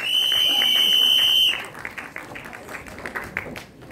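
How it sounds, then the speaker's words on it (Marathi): Applause from an audience at a Marathi film trailer launch event, heard as a broad wash of clapping and crowd noise after a loud electronic feedback tone during the first moments, fairly close and steady. "जोरदार टाळ्या आपल्या टॉपच्या किंगसाठी आणि टॉपच्या"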